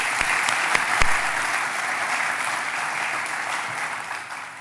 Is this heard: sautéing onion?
no